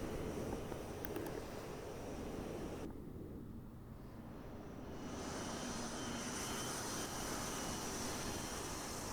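A Mirage F1EE jet engine roars in a flight simulator game at about 7,900 RPM, below afterburner. The loud, even broadband drone dips briefly and then swells back, with no one speaking.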